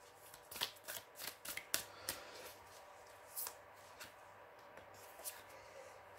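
Tarot and fairy oracle cards being shuffled and drawn up close, a quick series of papery riffling bursts followed by sparser soft flicks and slaps, quiet and without talk.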